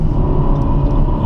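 Turbocharged engine of a Ferrari California T accelerating: a loud, close, steady low rumble with road noise, heard from inside the car with no talking.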